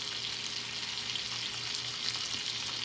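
Butter melting into sugar in a non-stick pan gives a steady, soft sizzle with a faint hum underneath, continuous and even throughout with no talking.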